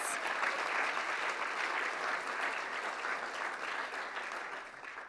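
Steady, dense applause from an audience at the 2022 Queensland Literary Awards ceremony, a full even wash of clapping that holds throughout and tapers slightly near the end.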